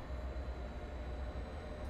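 An Amtrak Acela Express train in Train Sim World 3 gives off a steady low rumble and hum, constant and even throughout, with no distinct events and no voices.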